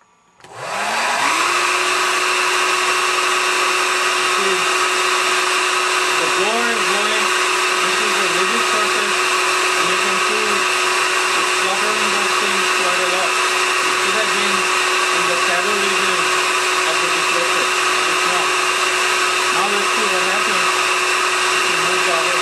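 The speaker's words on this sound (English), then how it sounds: "Right now, we have the rigid surface in front of the hair dryer" A hair dryer runs continuously, a loud steady whine and rushing airflow aimed at a rigid surface indoors, with faint fluttering under it and no talk.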